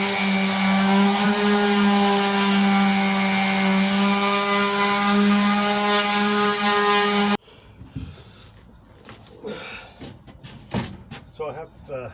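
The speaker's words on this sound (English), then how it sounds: "it's just a case of getting the old sander on the go" An electric sander buzzes in a loud, steady drone against the surface of an old boat, its tone unbroken for several seconds before it cuts off, leaving quieter handling noises and scattered knocks.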